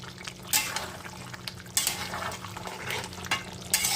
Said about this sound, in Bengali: আমি কিন্তু একটু নাড়াচাড়া করে নিলাম যেহেতু এখানে মশলা পেঁয়াজ তেল সমস্ত কিছু আছে